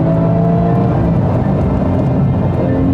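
Porsche 911 GT3 engine revving hard toward high RPM, a rich, deep, meaty roar that stays loud and close for the whole stretch, rising steadily with no talk over it.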